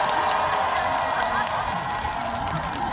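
Large outdoor crowd applauding and cheering steadily at a Busan world ramen festival concert, a dense, continuous wash of clapping and shouts throughout.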